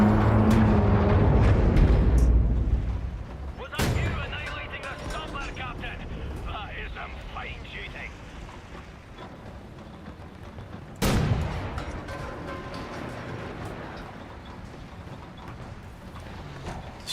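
Gunfire in the video game Wolfenstein: The New Order: two sharp, loud shots about seven seconds apart, each followed by a decaying tail over a quieter game background.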